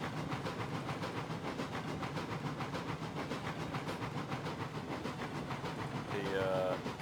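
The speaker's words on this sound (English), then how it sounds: "carriages are getting around the corner." In the Railroads Online game, coal train cars roll around a bend with a continuous rhythmic rumble and clatter, closing with a brief squealing tone.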